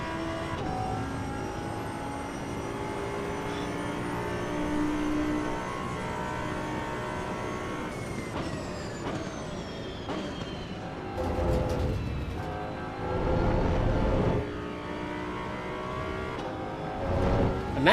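A race car engine in the Assetto Corsa EVO racing game revs high and sustained, then drops and surges again through gear changes, loud and close with no talk.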